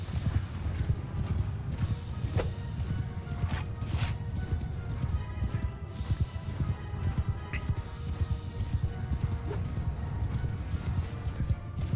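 Rapid, steady clip-clop of horse hooves pounding along in a video game battle, with a brief whinny mixed in over a busy background.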